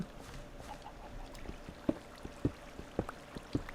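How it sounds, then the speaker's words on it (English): Rushing water in the video game Minecraft flows as a steady trickling, splashing stream, with several sharper splashes and drips standing out at moderate loudness. "And that water sounds like it's ferocious, doesn't it?"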